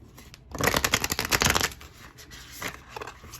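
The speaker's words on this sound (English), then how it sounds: "Okay, one more shuffle." Tarot cards are shuffled close up in a quick, papery riffle burst, followed by a few softer taps and slides of the deck.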